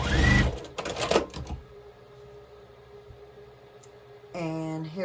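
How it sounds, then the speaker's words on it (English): Stitching a quilt block, a sewing machine whirs in two short loud bursts at the start, then a quiet hum, and another brief mechanical run near the end. "So now I'm gonna sew this"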